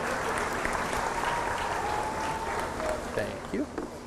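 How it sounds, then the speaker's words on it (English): A crowd claps for young contestants at a fair, the applause broad and continuous with voices and a few shouts mixed in toward the end. "Let's go ahead and give them one more round of applause"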